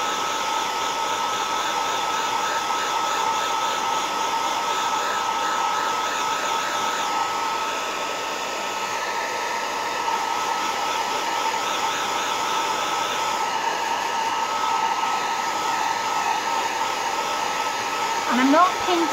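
A hair dryer blows hot air over emulsion paint on a teapot decorated with pink roses, a loud, steady droning hum that runs unbroken for the whole stretch with no voices over it.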